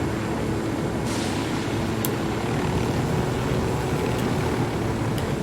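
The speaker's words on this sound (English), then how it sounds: "Can you imagine flying a helicopter in weather like this?" A helicopter flies in rough weather in the video game Ghost Recon Wildlands, a loud, steady rotor and engine drone filling the whole stretch, with a few faint clicks on top and no speech.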